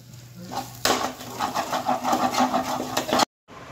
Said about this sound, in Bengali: দিয়ে এটাকে 2-3 মিনিট একটু নাড়াচাড়া করে নেব।